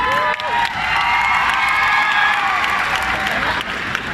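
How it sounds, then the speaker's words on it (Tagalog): An audience at a concert in Davao City applauds and cheers loudly, a dense wash of clapping mixed with high shouts, whoops and screams that holds steady throughout. "Pumalakpak po na may kasamang hiyaw nagsasabing maganda po si Lassie."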